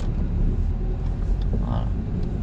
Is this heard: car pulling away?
yes